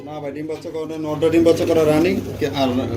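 Pigeons coo in low, rolling murmurs, close by, with someone talking over them, including a breeding female pigeon.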